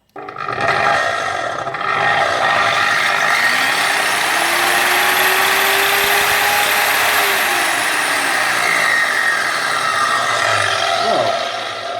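A Parkside PWS 230 angle grinder cuts through iron with a loud, sustained high whine that rises in pitch and falls again as the disc bites and eases off, steady and up close.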